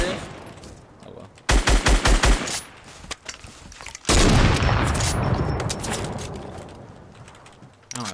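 Fortnite gunfire hammers a wall in loud close bursts: first a quick run of evenly spaced heavy shots, then a longer dense barrage that fades out, with brief talk in between.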